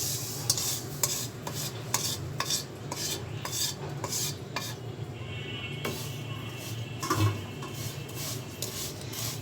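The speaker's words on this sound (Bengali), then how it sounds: "এখন আমি একটি প্যানে এক টেবিল চামচ পরিমাণ ঘি অ্যাড করে দিচ্ছি। এখন আমি সেমাইগুলোকে দিয়ে দিব।" Vermicelli is stirred in ghee in a pan for a sweet dessert, with repeated scraping strokes of a utensil against the pan over a light, steady sizzle, close and fairly loud, with no talking.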